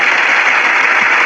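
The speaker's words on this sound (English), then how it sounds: "my first applause break" Dense applause from a comedy audience forms a loud, even wash of clapping that fills the whole short stretch without pause.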